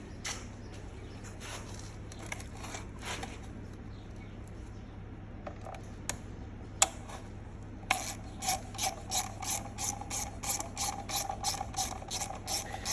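A hand ratchet clicks quietly at close range while loosening bolts on a Torrot electric motorcycle motor, with scattered bursts of clicking that grow into steady, rhythmic ratcheting strokes in the final seconds over a faint background hum.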